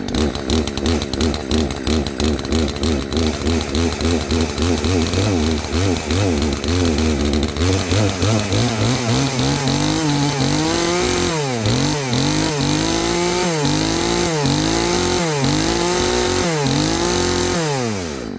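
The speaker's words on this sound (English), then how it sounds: "This is a good chainsaw." A reliable chainsaw runs loudly and close for the whole stretch, its engine revving up and down in repeated surges after being restarted to burn off old fuel, with a voice talking over it.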